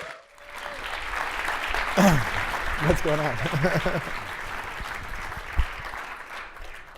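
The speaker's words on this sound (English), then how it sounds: "please a big round of applause for both of these guys" Conference audience applauding as two speakers take the stage, a steady wash of clapping running underneath a voice talking and a few brief voices over it.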